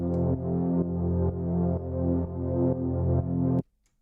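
A sustained, evolving techno synth pad atmosphere produced in FL Studio, with pulsing swells every half second, steady and full, then it cuts off abruptly near the end.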